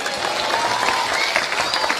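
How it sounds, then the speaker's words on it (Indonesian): An audience at a religious talk claps loudly and densely in a short burst of applause, with no speech over it. "Tepuk tangan ya ngapa ya?"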